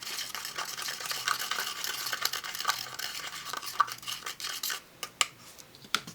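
Glitter mixed with embossing powder for a craft project, light scratchy stirring and tapping close by, growing into sharper clicks of a tool against a container toward the end.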